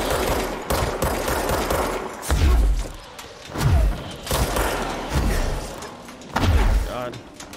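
Rocket explosions in the game Control, several deep booming blasts at regular intervals amid rapid gunfire and combat noise, loud and close, with someone talking during the fight.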